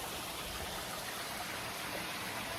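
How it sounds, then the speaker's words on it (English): Steady broadband rush of a waterfall dropping through a Brazilian forest, continuous and fairly faint, with no voices over it. "There's some waterfall type drop behind me."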